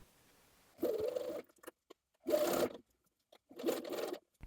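Three separate bursts of a sewing machine running as it stitches a facing to a sleeve hem, each a rapid whirring chatter of about half a second, separated by quiet pauses with small clicks.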